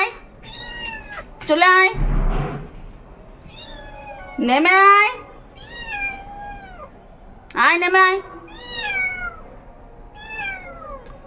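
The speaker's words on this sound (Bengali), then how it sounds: "ম্যাও ম্যাও পরে করবি" A pet cat meows repeatedly, high and insistent, in several drawn-out calls spread through the clip, while a woman nearby keeps calling to it.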